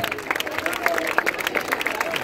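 Audience at an outdoor town festival proclamation event applauding, brisk clapping in a lively crowd with some background murmur, short and fairly close.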